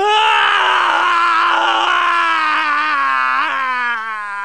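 Shadow screaming in Japanese from the video game Sonic Adventure 2, a loud, close, drawn-out cry that slowly sinks in pitch with a brief waver near the end.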